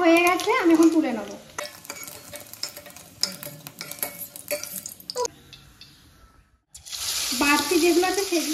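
Cornflour-and-salt coated food frying in white oil in a hot wok: a loud, steady sizzle broken by stirring scrapes and clinks. It drops into a brief lull near the end before the sizzling surges back.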